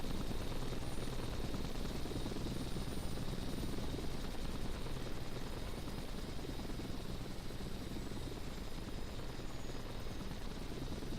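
A steady, loud engine drone of an aircraft in a flight simulator game fills the whole stretch, a continuous rotor-like roar with no pauses and no voices.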